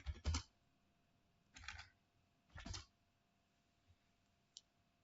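Typing on a computer keyboard: three short clusters of quick clicks spaced about a second apart, close but quiet, followed by a couple of single faint taps.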